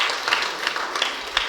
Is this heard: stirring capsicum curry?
no